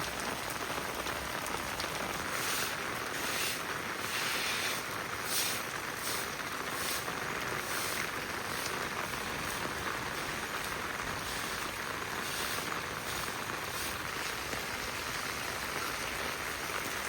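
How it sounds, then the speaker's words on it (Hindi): Heavy monsoon rain falls steadily and densely, a continuous loud hiss of drops on surfaces with no pauses and no voices. "अब तो थोड़ा सा बारिश धीमी हुई है, नहीं तो बहुत ही तेज़ वाली बारिश"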